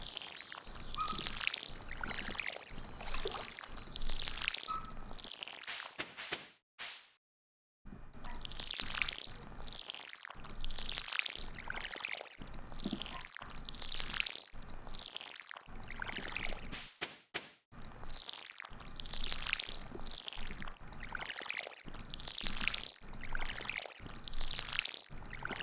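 Watering crops in the farming game Stardew Valley: repeated short pouring and splashing water effects, each a few seconds long, recur in a steady rhythm across the clip, separated by brief gaps, with no one speaking.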